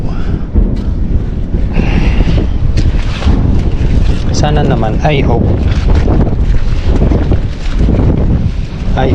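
Strong wind buffets the microphone in loud, steady rushes by an old fishpond where nets are being set, with someone speaking over the roar throughout.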